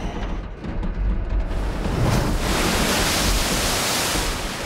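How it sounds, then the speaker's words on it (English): Steady rushing water in a plane crash audio drama, a dense, even wash like surf or pouring water that swells after the first second and then holds loud for several seconds, with no voices. "Some water there."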